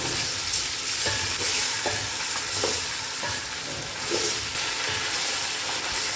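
Pork belly stir-fried in a pan until the fat renders, a loud continuous sizzle with repeated scraping strokes of a spatula at an irregular rhythm, alone without talk.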